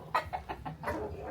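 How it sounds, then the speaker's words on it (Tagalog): Several chickens cluck in short, repeated bursts close by at a rural family home in the Philippine countryside, with soft background noise between calls. "Mga manok ni Papa, oh."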